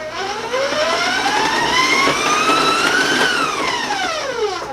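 A stand mixer with a paddle runs steadily to fold chocolate chips into sugar-free chocolate cookie dough, giving a loud, continuous motor whine whose pitch climbs and then falls over a few seconds.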